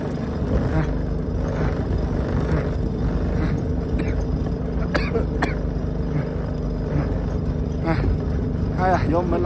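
A car crawls slowly up the Dongda Mountain pass, over 5,000 metres high, at barely ten-odd kilometres an hour. Its engine gives a steady, heavy low rumble throughout, with someone talking and coughing over it.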